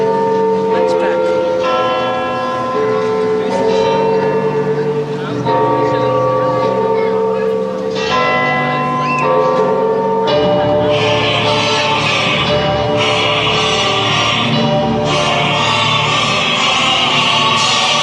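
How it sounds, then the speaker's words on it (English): Loud bells of Notre Dame peal in a musical setting from The Hunchback of Notre Dame, ringing repeatedly in layered, resonant strikes over a swelling orchestral and choral backdrop that grows fuller toward the end. "The city awakes to the bells of Notre Dame."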